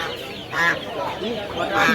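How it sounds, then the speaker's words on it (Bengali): Guinea fowl at a pet market in Birnagar call out in two loud, raspy bursts about a second apart, close by over a steady murmur of market noise. "গিনি ফাউল তিত মুরগি"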